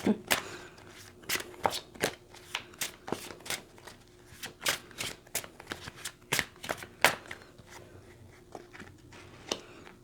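Tarot cards are shuffled and drawn by hand during a love reading, with close, crisp riffling snaps and slaps in an uneven rhythm and soft talk underneath.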